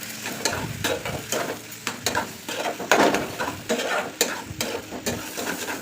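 Potato, eggplant and radish curry frying and being stirred hard in a pan, a close sizzle under frequent rhythmic scraping and clattering strokes of the spoon, with no one talking.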